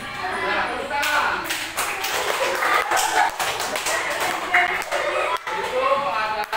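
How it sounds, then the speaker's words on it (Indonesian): Hands clap in a dense, continuous patter of sharp slaps that runs for several seconds, with voices talking over it. "Nah, tepuk tangan."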